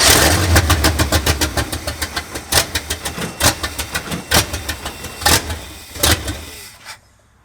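1965 Ford F250 engine starting and running rough, loud uneven chugging with irregular pulses and occasional stronger bangs from a misfire, close by, cutting off at the end.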